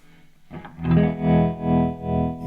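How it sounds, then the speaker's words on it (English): A distorted electric guitar chord through a Keeley Zoma pedal rings out and pulses in slow, regular swells of volume from a tremolo effect, about three throbs per second. "So now we've got the tremolo. You can really hear that phase, right?"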